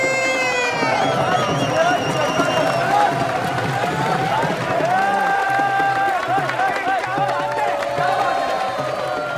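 An audience claps and cheers in welcome as a performer comes on stage at a live show, the applause running steadily under prominent voices and tonal sounds.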